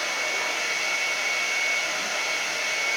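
A hair dryer blows steadily and loudly to dry an acrylic painting of a red wagon in snow, a continuous even whir of rushing air with no pauses.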